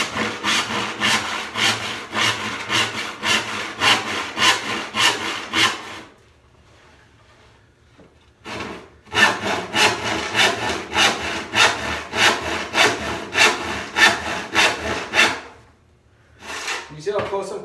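Hand saw cutting a wood slab in quick, rhythmic back-and-forth strokes, loud and close, stopping for a couple of brief pauses before resuming; no talking over the strokes.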